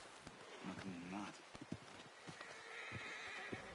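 A horse in Red Dead Redemption 2 snorts and whinnies in a snowy area, with a few soft hoof clops and shuffling, under quiet background ambience and brief talk.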